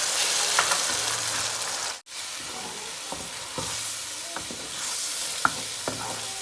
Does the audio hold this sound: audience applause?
no